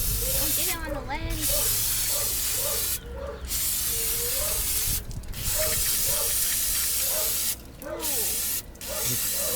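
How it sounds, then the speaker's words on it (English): Aerosol brake cleaner sprayed onto brake parts of a 2003 Ford Taurus, a loud close hiss in long bursts separated by brief gaps, with someone talking over the spray. "So, we got some good old brake clean for cleaning brake parts."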